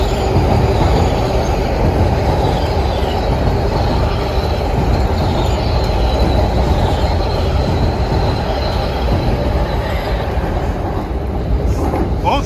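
A Metro-North commuter train bound for New Haven pulls out of a Harlem station, a loud, steady rumble of rolling railcars with wheel squeal and rail noise filling the whole stretch close by.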